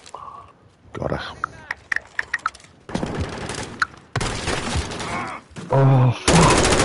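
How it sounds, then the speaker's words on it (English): Gunfire in the Modern Warfare II video game, including M16 burst fire, cracks out in quick bursts and volleys, loud and near, amid game effects and players talking. "Did you hear that M16's burst?"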